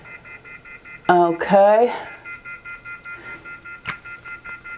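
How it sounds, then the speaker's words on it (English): Off-the-hook telephone tone sounding as a steady repeating pulsed beep throughout, with a short stretch of a woman's speech partway through. "That beeping you hear is the phone because I took it off the hook"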